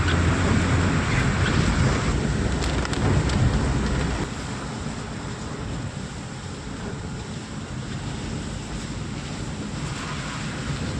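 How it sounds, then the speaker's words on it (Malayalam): Heavy rain pours steadily on a road trip from Kerala to Palani, a loud continuous roar with a rumbling low end, easing slightly partway through, with no talk. "മഴ പിന്നെയും കൂടിയിട്ടോ"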